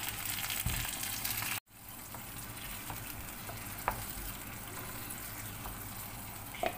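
Lentils frying in hot oil crackle and sizzle steadily after water is poured in, with a brief break, then a spitting hiss and small pops as the oil splatters.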